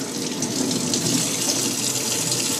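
Steady rush of running water splashing inside an enclosed appliance, constant and fairly close, with no voices.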